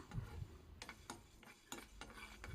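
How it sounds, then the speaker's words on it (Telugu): Moong dal dry-roasting in a pan while a utensil stirs it, giving soft, scattered scraping and clinking strokes at irregular intervals. Quiet and close, with no talk. "పెసరపప్పునైతే గోల్డెన్ బ్రౌన్ కలర్ వచ్చేంత వరకు ఫ్రై చేస్తున్నానండి"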